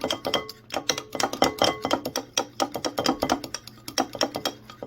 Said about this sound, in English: in a separate bowl, you want to beat 2 eggs until they are well mixed